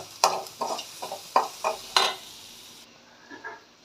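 Food, likely onions browning with a pinch of salt, fries in a pan as a spatula stirs, giving six or so distinct scraping strokes over a soft sizzle that fades, close by with no talking.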